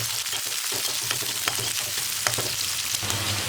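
Garlic, curry leaves and chopped onion frying in hot oil with mustard seeds for a brinjal kootu, a dense close sizzle with quick crackles and light stirring scrapes, steady throughout and without talk.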